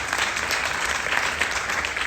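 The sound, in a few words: applause for Halle Berry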